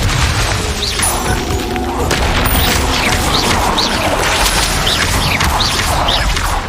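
A Bombarda spell explodes in Hogwarts Legacy amid ongoing combat, with loud booming impacts, crashes and whooshes layered thickly throughout.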